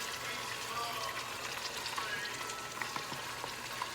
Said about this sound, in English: You have to stir it around.